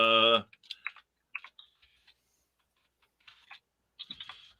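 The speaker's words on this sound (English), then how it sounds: "I'm typing something here. I have a very noisy keyboard." Sparse clicks and clacks from a loud computer keyboard, tapped in short irregular bursts with quiet gaps, following a brief vocal sound at the start.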